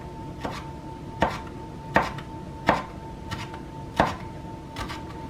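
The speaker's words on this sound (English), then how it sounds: "So I'm just simply making nice easy cuts now" A knife cuts peppers into julienne strips on a cutting board, making a series of about seven crisp, evenly spaced thuds up close over a faint steady hum, with no talking.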